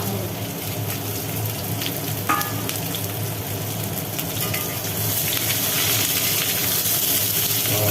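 Long-cut potatoes and vegetable stalks fry in oil with a loud, steady sizzle and hiss that swells slightly toward the end, with a faint clink near the start.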